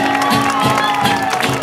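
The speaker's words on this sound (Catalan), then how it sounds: "Un fort aplaudiment pels cartellers." Applause for performers in the town square of Sant Cugat del Vallès during a rumba catalana dance, with steady clapping and crowd cheering over music and voices.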